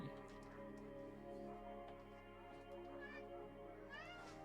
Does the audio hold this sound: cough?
no